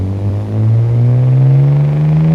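A BMW E30 engine in the video game BeamNG.drive revs up steadily, its low drone rising in pitch over a couple of seconds, loud and close.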